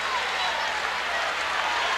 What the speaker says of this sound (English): the crowd's on their feet. They're clapping and yelling and murmuring